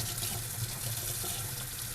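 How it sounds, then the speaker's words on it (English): Tap water from a running faucet rinsing a Philodendron Strawberry Shake plant in a sink, a steady close splashing rush with no talk. "So this time I'm just going to run it over the faucet."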